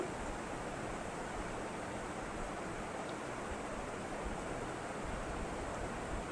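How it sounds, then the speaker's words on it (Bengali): Bay leaves and whole cumin seeds are tempered in hot oil in a kadai, giving a continuous, even sizzling hiss that stays steady and fairly soft throughout, with no talking. "এবারে এর মধ্যে আমি তেজপাতা আর গোটা জিরে ফোড়ন দিয়ে দিচ্ছি"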